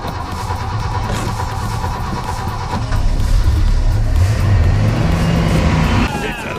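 A Ford big block V8 in an old Chevy C10 that has sat since the '70s catches and runs. It gives a loud, rough rumble that swells after a few seconds, and voices are heard over it.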